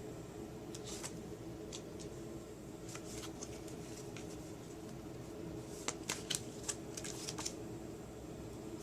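Tarot cards are shuffled and drawn in a quiet room: soft riffling and crisp card clicks come in short clusters, busiest toward the end, close and fairly faint over a low steady hum.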